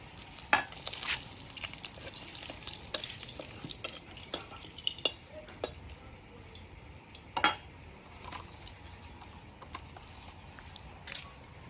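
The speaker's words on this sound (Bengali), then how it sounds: "একটু তেলে তেল দিয়ে দিয়েছি এখন দেব দুটি তেজপাতা" Bay leaves frying in a little hot oil in a pan, a soft steady crackle punctuated by sharp stirring clicks and clinks of utensil against metal, close and without voices, while preparing a pumpkin and bata fish curry.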